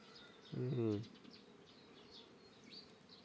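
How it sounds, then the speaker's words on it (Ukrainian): Bees work the blossoms of a flowering apricot tree on a spring day, giving a faint, intermittent outdoor buzz. A short loud hum passes close by near the start. "Абрикоса зацвіла, бджолки годуть."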